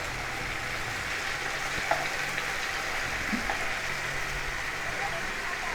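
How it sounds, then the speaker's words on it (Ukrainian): Marinated shish kebab meat frying in a pan, a dense, even sizzle with faint crackles and a couple of small clinks, close by and without talk. "Бачите, смажиться швидко, тому що воно промариноване"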